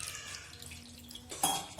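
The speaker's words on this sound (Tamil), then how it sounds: "தண்ணி ஊற்றி இதை வாஷ் பண்ணிடுங்க" Water is poured over freshly curdled homemade paneer to rinse it in a kitchen: soft dish clinks and drips, then a louder splashing pour near the end.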